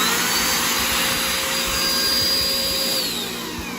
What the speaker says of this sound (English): So you can hear it start vacuuming, and then when you release the button, then it turned off.